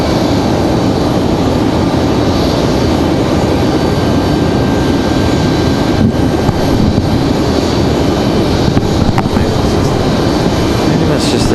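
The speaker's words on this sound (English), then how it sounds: "I know you guys are hearing the APU" An aircraft auxiliary power unit runs steadily at Raleigh-Durham International Airport, a loud continuous whine and roar with no breaks, heard from an outdoor spotting position.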